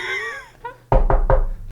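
Three firm, evenly spaced knocks on a door, loud and close, following a brief tonal sound at the start.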